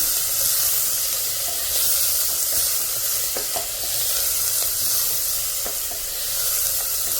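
Spice masala with onion and green chili is roasted in a pan, a steady sizzle under repeated scraping strokes of a spoon stirring through it, close and continuous.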